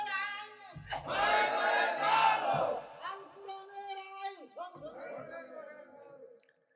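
A crowd at an Islamic sermon gathering shouts the takbir in unison, a loud massed roar that swells for about two seconds and then gives way to scattered, fading voices.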